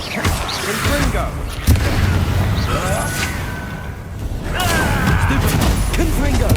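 Confringo blasting spells explode amid a frantic Hogwarts Legacy duel, with booming impacts and whooshes stacked over continuous combat noise, alongside shouted spell incantations and other voices.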